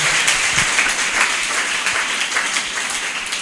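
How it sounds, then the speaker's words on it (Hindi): Congregation at a church service clapping loudly and continuously, a dense steady wash of many hands applauding together close by. "जोर से ताली मारिबा प्रेज द लॉर्ड"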